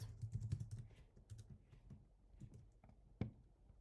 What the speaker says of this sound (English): So I'm going to type this here.